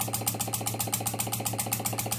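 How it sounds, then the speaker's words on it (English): A small low-pressure steam engine running on compressed air chugs steadily at close range, its rapid, even rhythmic exhaust beats and mechanical clatter repeating without pause. "This is a very low pressure steam engine"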